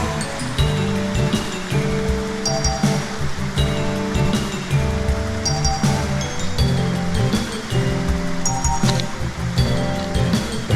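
A small waterfall at Inagawa Fudoson, shrunk after rocks collapsed in typhoon damage, pours with a loud, constant broadband rush that fills the scene, with faint tonal sounds and brief knocks layered on top.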